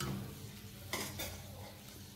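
Vidarbha-style patodi pieces slipped into a pot of salted boiling water: a steady bubbling hiss with two short, splashy bursts partway through, close and fairly quiet, with no talking.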